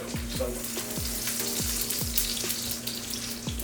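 Oil sizzles steadily in a frying pan, a constant close crackling hiss with faint rhythmic knocks underneath and no voices.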